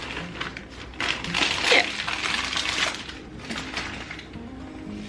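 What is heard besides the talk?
whisk mixing chocolate chips into cookie dough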